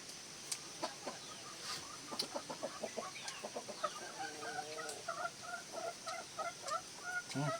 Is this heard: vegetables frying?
no